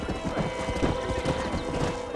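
Horse hooves clip-clop in a quick, steady rhythm in the modded PC game Red Dead Redemption, loud and close, with a faint neigh mixed in.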